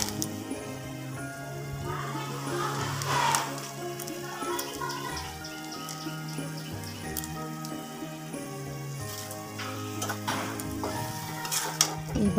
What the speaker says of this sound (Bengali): এবার ভালো করে নেড়ে ছেড়ে নেব।